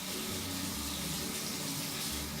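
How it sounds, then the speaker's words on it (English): Water pours steadily from a tap into a sink while paint brushes are washed, a continuous close splashing rush with no talking. "let's go wash our brushes"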